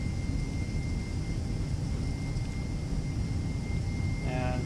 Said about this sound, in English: That's gonna be a long takeoff run.